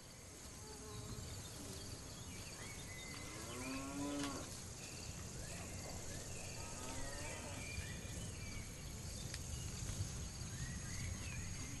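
Cattle moo several times on a farm in Cambodia, with prolonged calls carrying over a steady drone of buzzing insects and flies in the open air.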